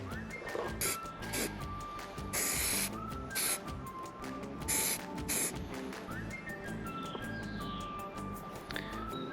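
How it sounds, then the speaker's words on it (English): Hissing bursts from an aerosol can of crack-detection dye sprayed on a 1934 Singer Le Mans engine block cut in and out in short sprays over a background of clatter and workshop noise. "we'll give it a spray and see how we get on"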